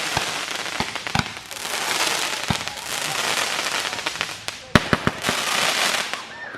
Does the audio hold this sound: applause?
no